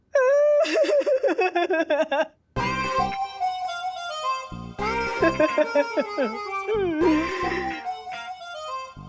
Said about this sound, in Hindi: तेरी रोने की आवाज जो है बाउंस होकर बाहर से अंदर आ रही है